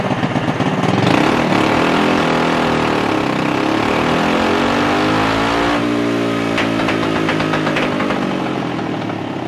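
A car strapped to an inertia dyno revving hard, the engine note climbing steadily through the gears in a loud, sustained roar, with rising and falling harmonics near the mic and no voices.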